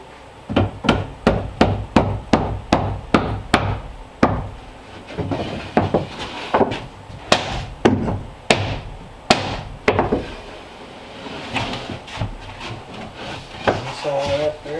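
Steady hammer blows strike a wooden block during interior wall work on an off-grid timber frame cabin, a quick run of sharp, regular knocks at first, then sparser hits mixed with scraping and people talking nearby.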